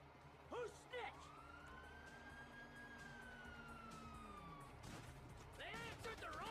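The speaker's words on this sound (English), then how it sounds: "you hear that? Sirens!" A video game police siren wails in a long sweeping tone over a busy, noisy scene, with shouts and crashes around it and a faster yelping siren near the end.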